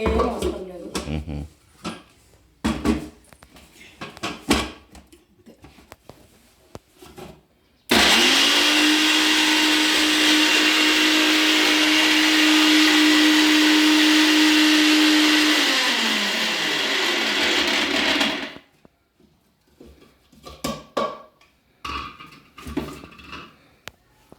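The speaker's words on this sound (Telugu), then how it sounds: "దీన్ని ఇప్పుడు మిక్సీ పడదామండి" Mixer grinder whirring loudly and steadily for about ten seconds as dried prawn spice powder is ground, starting and stopping abruptly, with kitchen clatter and talk before and after.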